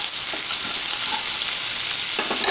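Grated ginger hitting a hot pan for a special dal, a loud bright continuous sizzle close by with a few light stirring knocks near the end.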